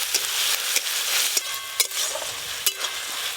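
Ginger, garlic and onion paste fries with whole garam masala for a village-style prawn malai curry, sizzling steadily while a spoon scrapes the pan in repeated close strokes, with no talking.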